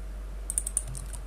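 A handful of quick, light keystrokes on a computer keyboard, close and fairly quiet over a low steady hum, lasting barely a second.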